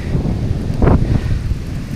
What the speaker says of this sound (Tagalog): Lakas ng hangin, tropa peps!